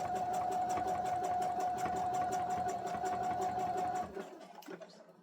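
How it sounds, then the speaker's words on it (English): A sewing machine stitches fabric with a steady, rapid mechanical chatter and a constant motor hum for about four seconds, then stops abruptly, leaving faint handling noise. "I'm just going to start stitching"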